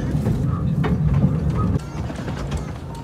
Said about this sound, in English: We're taking the train tracks through nature.